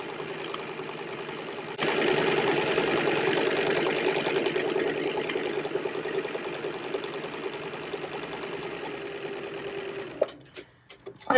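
A sewing machine runs a long, steady stitching pass on fabric for a drawstring bag, a continuous close mechanical whir that starts up, holds its pace for several seconds, then slows and stops.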